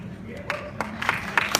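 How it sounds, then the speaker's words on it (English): An audience at a question-and-answer session with a rock musician aboard a fan cruise breaks into brief, scattered claps under a speaking voice, a few sharp hand claps standing out near the end. "What are you clapping for?"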